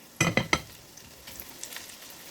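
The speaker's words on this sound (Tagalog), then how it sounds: "Kung gusto mong crispy talaga yung talong mga idol, i-double fry natin." Eggplant being double fried in hot oil gives three quick loud bursts of spattering sizzle, then fades to a faint, scattered crackle.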